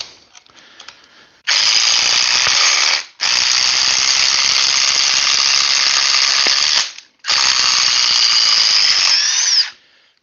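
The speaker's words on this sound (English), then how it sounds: "you heard that impacting, that dot, dot, dot, dot, dot" An impact driver runs three loud, sustained bursts, hammering a screw straight into wood with no pilot hole, its rapid metal-on-metal rattle steady through each burst with short pauses between.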